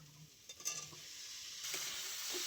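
Boiled potato and young jackfruit are added to spice paste that is already frying in oil, setting off a quiet sizzle while the pieces are stirred and scraped in the pan. The hiss grows louder toward the end.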